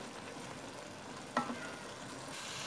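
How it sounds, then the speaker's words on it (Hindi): Black-eyed bean curry with tomatoes and green chillies frying in a pan, a steady soft sizzle throughout with one brief stir or clatter partway through, no voices. "मज़ीद थोड़ा सा और भूनेंगे ताकि ये जो टमाटर नज़र आ रहे हैं ये भी गल जाएं"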